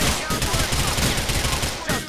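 Gunfire in the video game GTA IV, a loud, rapid burst of repeated shots that runs without a break, with a second burst starting at the end.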